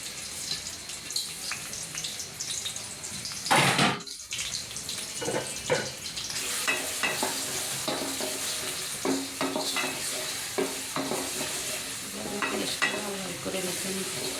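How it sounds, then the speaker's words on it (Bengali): Chopped onion drops into hot oil in a pan over a medium flame, hissing into a steady sizzle with intermittent scraping and stirring sounds up close. "এরপর দিয়ে দিচ্ছি পেঁয়াজ কুচি।"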